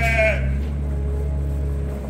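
A single sheep on a farm lets out one close, loud bleat at the start, fading into a steady low background hum.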